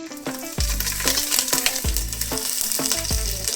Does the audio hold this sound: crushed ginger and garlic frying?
yes